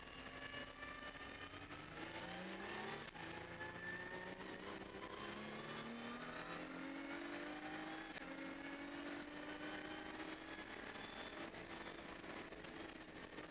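A V6 Cup R race car on the Silverstone circuit revs and accelerates at a distance, faint rising engine tones climbing through the gears, with no talk.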